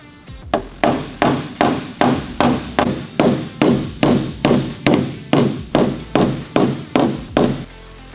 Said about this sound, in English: get our blending hammer and start correcting some of these crowns